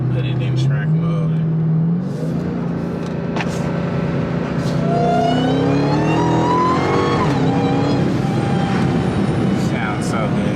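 A Dodge Hellcat's engine revs up and falls through downshifts, its tone rising and dropping over steady close road rumble, with people talking over it.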